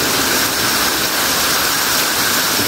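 Waterfall pouring inside an underground river cave, a steady, loud broadband rush of falling water filling the space without pause.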